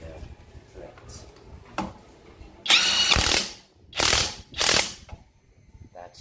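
Tio Moon WHT80S high-torque impact wrench tightening a lug nut on a Toyota Fortuner SUV at its low setting, giving three loud, short hammering bursts of about a second each, with quieter clicks and handling noise between them.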